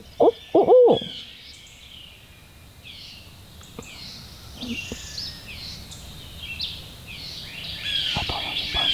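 An owl hoots twice loudly and close in Alabama public-land woods, followed by quieter scattered sounds and faint chirping birds over a hushed background.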